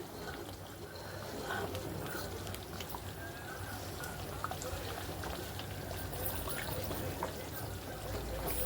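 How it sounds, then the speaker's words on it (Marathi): Hot water pours steadily into a pot of village-style chicken curry for several seconds, a soft, continuous splashing that stays fairly quiet and close. "गरम पाणी टाकायचं भाजीमध्ये"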